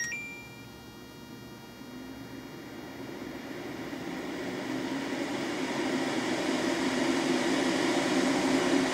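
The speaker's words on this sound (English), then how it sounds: "So if I press on that, it's gonna make the fan a whole lot louder and a whole lot stronger." An LG PuriCare AeroTower purifying fan switches into turbo mode, its airflow whoosh steadily swelling louder over several seconds into a strong, continuous rushing hum after a brief electronic beep.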